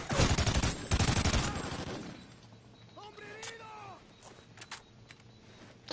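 Gunfire in a Ghosts campaign video game firefight, heavy and loud for the first two seconds, then fading out under quieter background effects.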